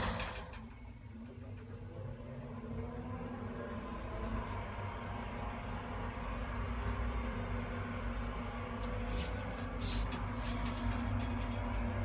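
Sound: Federal winding drum traction residential elevator running

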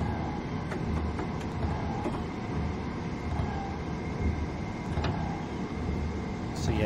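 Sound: eight-car train running in Train Sim World 2020, video game

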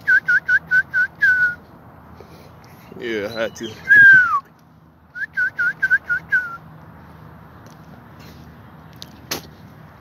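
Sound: person whistling imitating a bird

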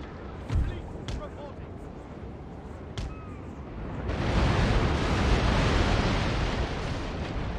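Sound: ship cannon fire in Napoleon: Total War video game

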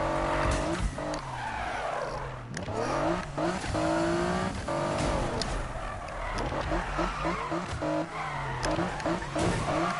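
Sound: cars racing and skidding in a video game

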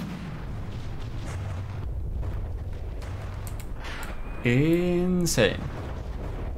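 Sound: artillery shells exploding in From the Depths video game

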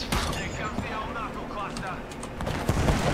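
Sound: gunfire in Apex Legends video game

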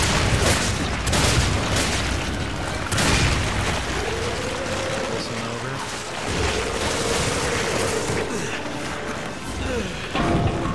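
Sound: grenade explosions in the video game Resident Evil 5

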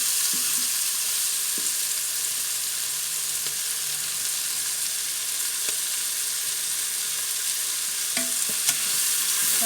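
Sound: sautéing mushrooms and canned corn in a pot

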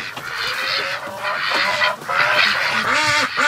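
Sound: Muscovy ducks

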